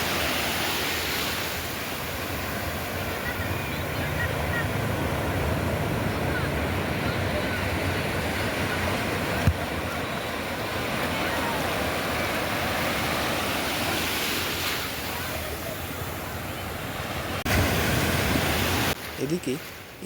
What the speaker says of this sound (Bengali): এদিকে এই মাছ ধরার ট্রলারটি সাগরের স্রোতে হেলে দুলে তার নির্দিষ্ট স্থানে যাওয়ার চেষ্টা চালিয়ে যাচ্ছে।